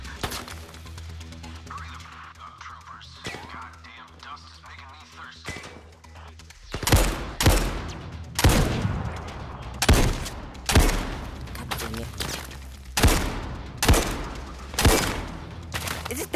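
Rifle shots ring out in the Zero Caliber VR shooter game: a quiet stretch of low rumble and scattered clicks, then a rapid string of sharp, loud cracks at roughly even intervals, each with a short echoing tail.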